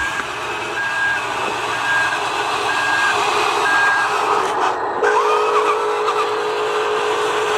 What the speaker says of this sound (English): You can hear the backup alarm.